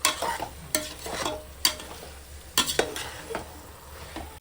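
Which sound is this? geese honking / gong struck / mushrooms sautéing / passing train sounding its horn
mushrooms sautéing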